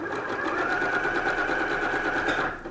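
A sewing machine stitches a cardigan at steady speed, a close, continuous rapid whirring chatter that tapers off at the very end.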